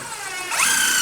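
Screws driven into basement framing lumber to fix a bulkhead, a brief power-drill whir that rises sharply in pitch halfway through and holds steady, close and fairly loud, with no voices.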